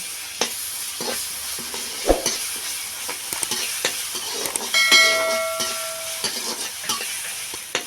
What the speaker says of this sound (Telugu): వేసుకున్న తర్వాత ఇది బాగా కలుపుకోవాలండి